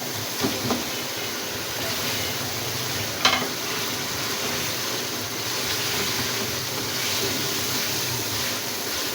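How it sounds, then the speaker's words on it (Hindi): Chicken pieces frying in a pan of thick chicken tikka gravy, a steady loud sizzle with occasional scraping stirs, heard alone with no talking. "अब ऐड कर देते हैं चिकन।"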